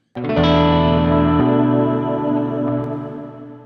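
A strummed electric guitar chord rings out sustained and even, then shifts to a thinner chord that slowly fades, smooth and compressed.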